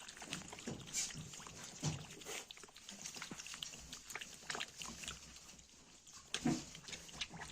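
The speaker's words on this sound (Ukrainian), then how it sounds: "Це саме цікава хрюшка." Vietnamese piglets about two months old grunt and snuffle while feeding on boiled potatoes, soft scattered grunts and rustling, quiet and close, with a few louder squeals.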